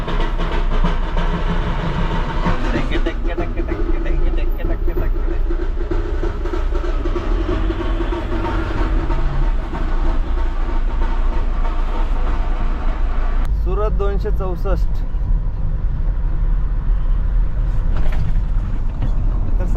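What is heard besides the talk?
heavy road traffic entering Mumbai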